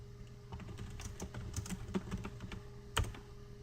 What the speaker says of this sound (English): So I'll just type something here.